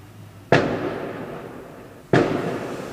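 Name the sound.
fireworks going off outside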